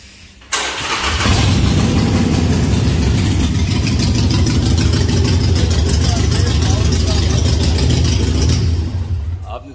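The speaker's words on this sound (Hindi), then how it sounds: "देखा साउंड चेक किया इस बाइक का" A heavy motorcycle engine fires up and runs with a loud, deep rumble, revving steadily for several seconds close by before cutting off.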